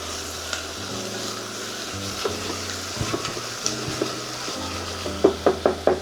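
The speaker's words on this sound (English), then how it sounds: "We're gonna start to mix very well all the ingredients here" Chopped shiitake mushrooms and other vegetables for gravy are stirred in a pan over a steady sizzle, with scraping strokes and a few sharper knocks of the utensil toward the end, close and alone.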